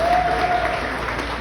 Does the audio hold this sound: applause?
yes